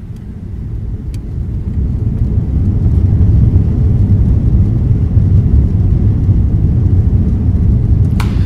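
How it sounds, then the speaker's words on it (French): A loud, continuous low roar of a jet airplane taking off, steady and powerful throughout with no voices; an exaggerated sound effect in a mix. "le son du décollage d'un avion"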